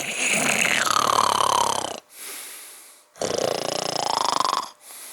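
A voice imitates loud snoring, playing a girl pretending to sleep: two long, heavy snores separated by a brief pause, close and loud.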